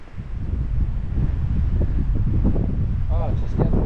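Wind buffets the microphone on a rocky point of Lake Huron's North Channel, a loud continuous low rumble with faint voices talking beneath it.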